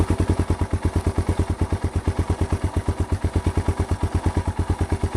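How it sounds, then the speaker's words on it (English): A Yamaha TW200 motorcycle, its carburetor leaking fuel, idles low and close, each firing pulse distinct in a steady, chugging rhythm. "It's idling. Much lower idle than it was."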